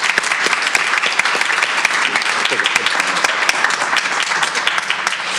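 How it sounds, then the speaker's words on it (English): Loud, dense applause fills a board meeting as the audience claps for a state legislator. The sharp claps continue evenly and close by for the whole stretch, with little else heard. "So let's give him a round of applause."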